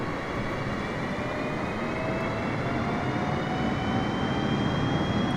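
Boeing 747-100 SCA jet engines at max throttle in Microsoft Flight Simulator: a loud, steady, dense roar with a faint rising whine, constant throughout, no voices.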